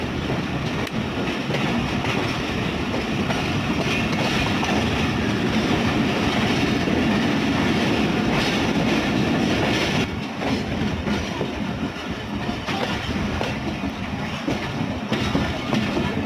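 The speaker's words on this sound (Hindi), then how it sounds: "और ट्रेन हमारी रवां दवा है कराची की तरफ।" A passenger express train runs steadily along the tracks in Pakistan, giving a loud continuous rumble with rhythmic clickety-clack of wheels heard from on board, with no talking.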